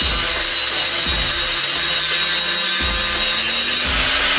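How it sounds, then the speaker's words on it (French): Power tool grinding down spot welds on a Renault 4L body shell during restoration, a loud continuous abrasive whine close up, with a few brief thumps as the tool shifts and no talk. "Maintenant je vais araser tous ces points de soudure"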